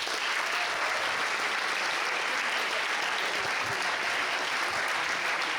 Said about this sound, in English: can we have a huge round of applause for all these amazing performers tonight?